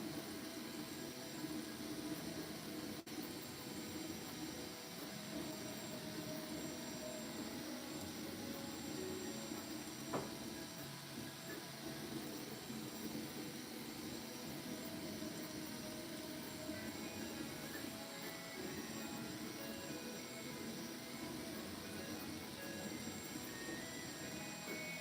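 A 3D printer runs steadily with a continuous whirring hum and faint vibration, broad and even throughout with no talk.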